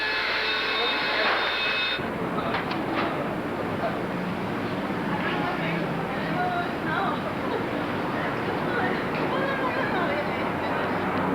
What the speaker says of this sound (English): The plane, yeah.